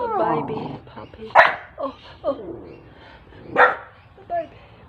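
A puppy yips and barks in a few sharp, high bursts, close by, amid a mix of whining and voices.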